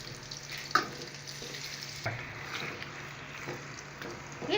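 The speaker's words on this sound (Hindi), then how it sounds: "ये ऑयल गर्म हो जाए तब हम इसमें मैरिनेट किया हुआ चिकन अच्छी तरह फ्राई करने के लिए छोड़ देते हैं।" Marinated chicken frying in hot oil in a pan for biryani, a steady moderate sizzle with occasional clunks and scrapes of a spoon against the pan, no talking.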